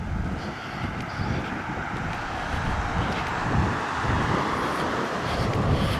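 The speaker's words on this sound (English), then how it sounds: "Sure, it's a little windy." Steady low rumbling buffet of wind across the microphone on a street in Henderson, Kentucky, constant and close throughout, with faint outdoor background noise underneath.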